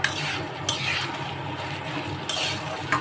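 Taro leaves (kochu shak) with prawns being stirred after sugar is added, giving soft scraping clatter of a spoon against the pan, with a few sharper clinks over a low cooking hiss.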